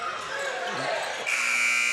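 A halftime buzzer at a boys' playoff basketball game blares as one steady, loud tone in the final stretch, rising over the noise of the gym crowd and commentary.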